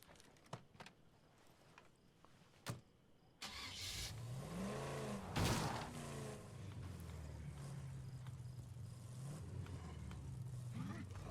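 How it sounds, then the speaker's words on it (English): A car in the zombie survival video game State of Decay 2 starts with a sudden engine catch after a few faint clicks, then drives off with a steady mid-pitched engine drone that briefly swells as it revs. "let's go park this new car in a more useful spot"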